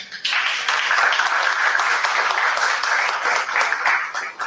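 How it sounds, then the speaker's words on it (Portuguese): An audience at a Brazilian launch event for a social technologies catalogue breaks into steady applause, a dense wash of clapping that starts abruptly and holds at full strength with no voices over it. "vou pedir uma salva de palmas"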